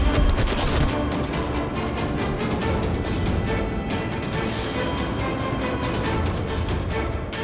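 Dense, continuous gunfire from a TV crime drama crackles throughout, a rapid barrage of overlapping shots with no pauses, loud and harsh.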